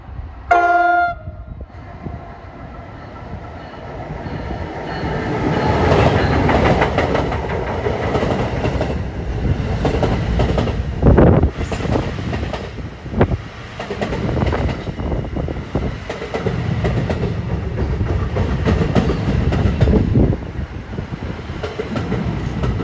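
An Amtrak express train runs non-stop from Newark through Princeton, passing close and loud with a deep rumble, clattering wheels and sharp horn blasts across its length, after a brief quieter lead-in.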